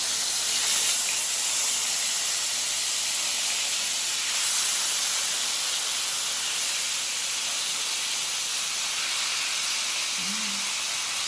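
Marinated chicken pieces frying in a little olive oil for chicken bistek, giving a steady, even hiss of sizzling that holds unbroken and fairly loud throughout with no talking.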